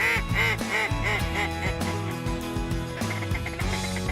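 Sure Shot duck call blown for a late-season duck hunt in Winnie, Texas, giving a loud, steady series of ducky quacks in rapid rhythmic runs, close and alone with no talking.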